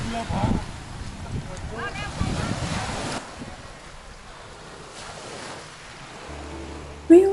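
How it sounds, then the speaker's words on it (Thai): Waves wash onto the shore at Koh Larn beach in Thailand as a steady, rushing surf under gusts of wind noise. Voices are faintly heard near the start. "ฟังเสียงคลื่นซัดฝั่ง"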